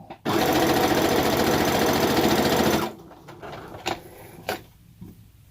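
Sewing machine running fast while stitching a foot pedal pouch, a loud steady close mechanical whir lasting a few seconds that stops abruptly, followed by quieter handling knocks and clicks.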